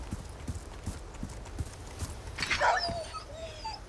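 In Resident Evil 4 Remake, a dog gives a short bark after a series of steady, evenly spaced thuds, like footsteps. The bark stands out briefly above the quiet game ambience.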